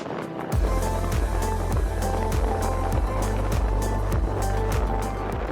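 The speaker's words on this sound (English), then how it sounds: "You may be able to hear in the background some of the extreme wind noise." Extreme wind blasting across a beach on South Padre Island, a loud, constant low roar with repeated gusty thumps buffeting close in, no voices.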